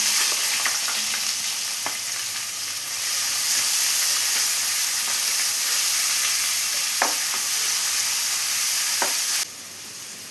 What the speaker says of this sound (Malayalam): നമുക്ക് ഇതിലോട്ടുള്ള സവാള ഒന്ന് വഴറ്റിയെടുക്കണം